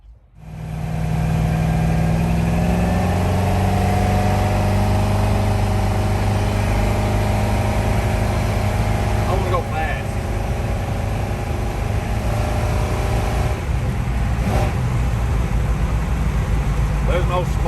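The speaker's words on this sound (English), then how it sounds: "It's really tight, really quiet running truck. It got a real good sound to it." A rebuilt engine in a 1954 Ford truck idles smoothly and steadily, close and loud throughout, with someone talking over it.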